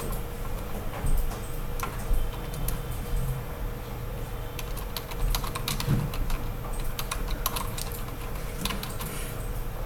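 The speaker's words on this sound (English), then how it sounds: "system out println and type something over here" Computer keyboard keys clatter in a steady stream of irregular clicks, fairly close and continuous, while Java code is typed with no talking.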